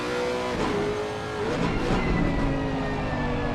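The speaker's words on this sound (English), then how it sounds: "I do love the sound of that Lexus" A Lexus race car engine revs steadily close by, a gruff, throaty drone with rising and falling pitch and no talk over it.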